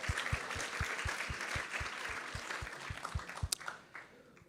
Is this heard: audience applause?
yes